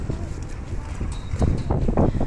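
Strong wind buffets the microphone beside a boat at a dock, a steady low roar with gusty swells, heavy and close, with no other distinct sounds.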